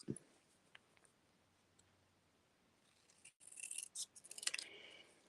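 Scissors trim the edge of a stamped greeting card with a few crisp, close snips near the end, after a quiet stretch with only faint clicks.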